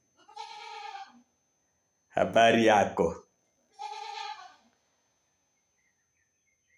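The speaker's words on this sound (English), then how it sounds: "That is my goat making noise." A goat bleats loudly and nearby in two harmonic calls, separated by a burst of close speech from a person.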